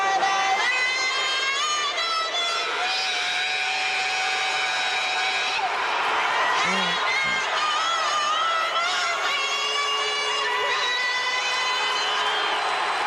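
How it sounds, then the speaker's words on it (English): A large crowd at an anthem performance in San Diego, a dense, continuous roar of cheering and shouting that stays loud and sustained throughout. "There's a lot of people cheering"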